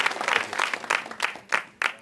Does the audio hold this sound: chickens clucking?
no